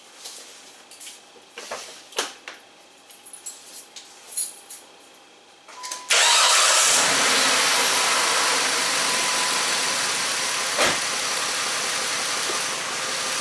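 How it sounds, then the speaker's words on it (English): A 2005 Chrysler Sebring with a bad ignition coil is started, catching after a few quiet clicks and settling into a loud, rough, steady running note with a constant misfire; no one speaks. "As you can see, it's really misfiring. It's a constant misfire."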